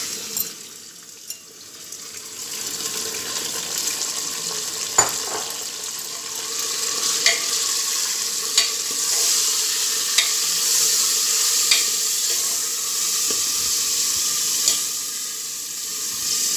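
Minced meat (keema) sizzles in a pan with whole garam masala while being stirred. The frying hiss is steady and close, broken by occasional sharp scrapes and clicks of the spoon, with no one speaking.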